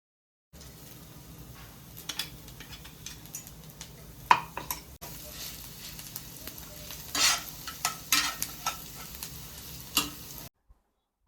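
Ground spice masala and cumin frying in hot oil in a pan, a steady soft sizzle with scraping stirs and occasional utensil clicks, close and moderately quiet without talk.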